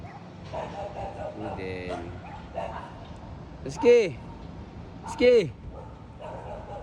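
Two sharp, loud dog barks a second or so apart, close by, amid softer whimpers and yips as dogs meet a new poodle, with a person calling out over them.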